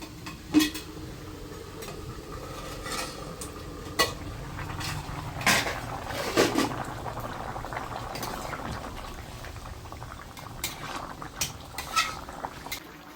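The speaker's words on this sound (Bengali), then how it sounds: "এখন সরাটা তুলে নেব।" A cooking pot of potatoes boiling with fish head, its lid lifted with light metallic clinks and knocks over a steady bubbling simmer, all close by.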